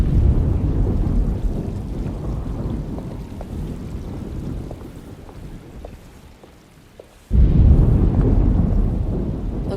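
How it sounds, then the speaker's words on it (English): A thunderstorm rumbles through the video game Alone in the Dark: heavy rain and low thunder roll loudly, thin out to a quieter patter with faint ticks, then a sudden loud crash of thunder and downpour returns. "Looks like a storm's coming."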